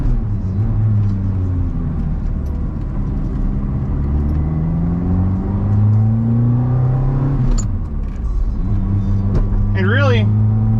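Ferrari F430 converted to a manual gearbox downshifting while leaving a freeway, its engine rising and falling in pitch through blips under a steady road rumble, with a person talking over it.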